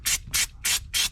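Four short, evenly spaced hisses from a spray can coating steel car parts, each burst about a fifth of a second, close and fairly quiet.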